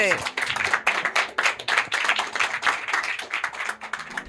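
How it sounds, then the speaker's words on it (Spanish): Audience clapping for a guest at a live discussion event in Chile, dense and steady throughout, with a voice speaking over the applause at the start and end. "Y que aplaudan por supuesto, a nuestro invitado."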